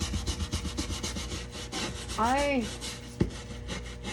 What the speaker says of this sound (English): This is a well-loved scrub brush.